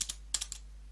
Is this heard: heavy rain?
no